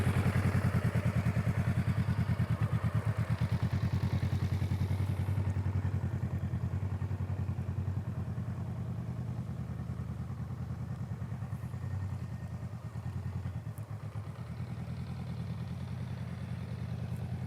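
A motorcycle engine idles steadily with a throbbing, clattering pulse, loud at first and then settling slightly quieter while it keeps running, with no voices over it.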